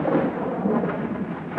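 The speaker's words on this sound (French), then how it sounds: "Un jour, une énorme tempête se leva." A thunderstorm breaks out as a sound effect in a told story about a great storm at sea: a dense, continuous rumble of thunder with rain, loud and steady throughout, with no voices.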